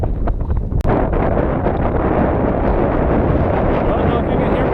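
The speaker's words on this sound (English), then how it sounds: "I don't know if you can hear me over the wind." A strong headwind batters the microphone of a runner heading downhill during the San Luis Obispo Marathon, a loud continuous low roar and rumble with one brief knock near the start.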